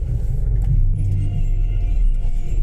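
A truck rumbles past nearby with a low, heavy engine drone and road noise, steady and loud with slight swells, and no talk over it.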